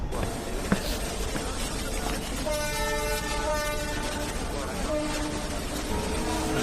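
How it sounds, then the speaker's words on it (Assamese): A train pulls in at platform 1 of Rangia Junction railway station, its horn blaring for about a second and a half over the constant rumble of wheels and the noise of the platform. "এতিয়া আহি আছে 1 নম্বৰ প্লেটফৰ্মৰ ট্ৰেইন।"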